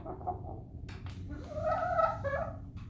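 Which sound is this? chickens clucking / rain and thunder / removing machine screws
chickens clucking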